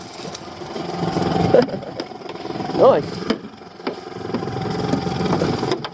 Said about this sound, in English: that engine is flipping noisy